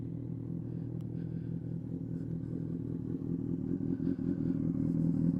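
Honda CBR600RR sport motorcycle engine running close by, a steady low throaty idle with a faint rattle, swelling slightly louder toward the end, with no talk.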